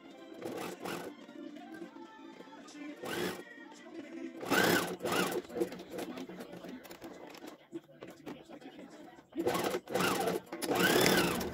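A sewing machine topstitches a men's sport shirt collar in bursts of rapid stitching, separated by quiet pauses. No one talks.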